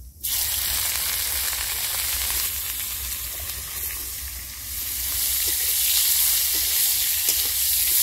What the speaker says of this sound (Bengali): ফোড়ন লাল হয়ে গেছে, এবার কপি দিয়ে দিচ্ছি।